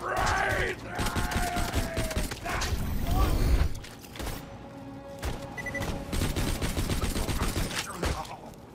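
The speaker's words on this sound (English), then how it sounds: "Fire assault rifle" Assault rifle gunfire crackles in Borderlands 2 as rapid bursts of shots mixed with mechanical clatter and other game effects, fairly loud throughout.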